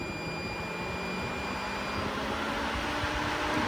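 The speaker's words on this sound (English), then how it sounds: "the cooling fan should turn on. And it should go all the way up to its high state." A car's AC cooling fan running at its high setting during a bi-directional scan tool test, a steady faint whirring drone with a slowly rising level and a thin high whine, no talking.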